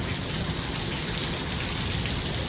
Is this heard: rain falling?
yes